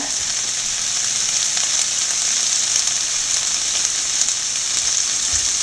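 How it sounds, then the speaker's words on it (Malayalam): Beef frying in a pan for a Kuttanad-style beef fry, a loud, steady close-up sizzle that runs without a break, with no talking over it. "ബീഫ് അങ്ങോട്ട് ഇട്ട് കൊടുക്കാം"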